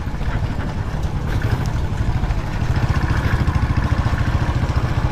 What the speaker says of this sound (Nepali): एक्जस्ट चेन्ज गरेको थियो, कत्रो आवाज आउने क्या, आमामा थर्काइदिने के यो एक्जस्टले त